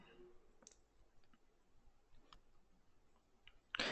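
Faint, sparse mouse clicks come as a few separate sharp ticks in a quiet room, ending with a louder burst of noise.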